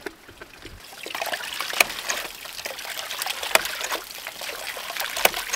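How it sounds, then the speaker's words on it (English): Water trickles and pours steadily into a bucket set around the waste valve of a ram pump, a continuous close splashing stream with a few sharper drips, heard alone without talk. "add more water to this"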